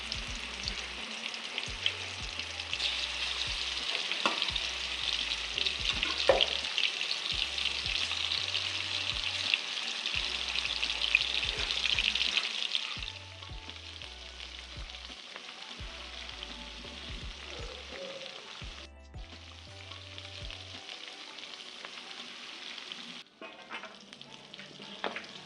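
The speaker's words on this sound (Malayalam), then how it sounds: "അതിന് വേണ്ടിയിട്ട് ഞാൻ ഈ മാരിനേറ്റഡ് ചിക്കൻ നല്ലപോലെ ഫ്രൈ ചെയ്തെടുക്കുന്നുണ്ട്." Marinated chicken for a spicy chicken roast fries in a pan with a steady, bright sizzle. It is loud and close for the first half, then drops to a quieter hiss. A low background tone runs underneath.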